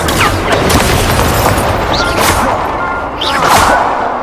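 In the video game Hogwarts Legacy, an Incendio fire spell is cast amid dense, loud combat effects, with booming whooshes and crackling bursts that run continuously without a break.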